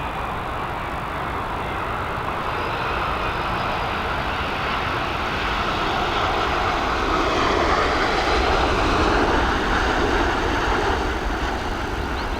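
A jet airliner lands at Dublin Airport, its engine roar loud and steady throughout, swelling slightly as the aircraft passes close by.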